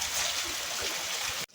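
A soft, steady hiss of light rain falls continuously, then cuts off abruptly at the end.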